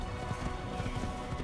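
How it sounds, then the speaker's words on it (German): Horse hooves clip-clopping at a steady riding pace in the video game Assassin's Creed, a continuous rhythmic patter over a dense game soundscape, fairly loud and with no talk over it. "jetzt kann ich aber auf mein Pferd wieder steigen und da wieder lang reiten"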